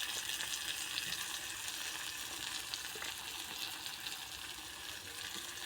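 Tomato with salt and turmeric fries gently in a pan, a soft, even, continuous sizzle with faint stirring, fairly quiet and steady throughout, no voices.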